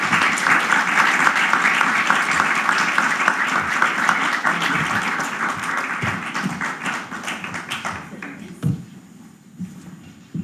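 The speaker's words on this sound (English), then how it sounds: "Let's give them a round of applause." An audience at a forum applauds panelists as they take the stage, with dense steady clapping for about eight seconds that thins into scattered claps and fades near the end.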